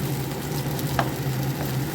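Food frying in white oil gives a steady, moderately loud sizzle with a low hum beneath and one brief clink partway through.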